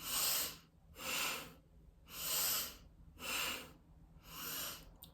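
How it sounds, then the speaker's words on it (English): Rhythmic breathwork with full inhales through the nose and quick exhales, five strong, evenly spaced breath cycles, close and airy, with no speech. "Full inhale through the nose, followed by a quick exhale."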